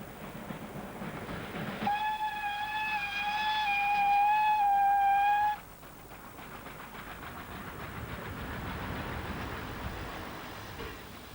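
A Polish-built TY42 steam locomotive runs at Wolsztyn, giving a loud, sustained whistle blast for several seconds over a steady rumble of the moving train, with no voices.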